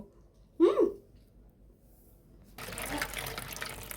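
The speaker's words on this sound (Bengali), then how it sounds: "সাবুটাকে আমি ভালো করে জল দিয়ে ধুয়ে নিচ্ছি" Water runs and splashes steadily in a kitchen as large sago pearls are rinsed in a bowl, starting partway through after a short sound and continuing to the end at moderate volume.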